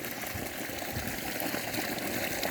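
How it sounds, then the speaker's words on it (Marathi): Water gushes steadily out of a 2.5-inch pipe fed by a 3 HP solar-powered borewell pump, a loud, continuous rushing splash close at hand with no pause or voices. "हा अडीचचा पाईप एकदम चांगल्या प्रकारे या ठिकाणी पाणी मारत आहे"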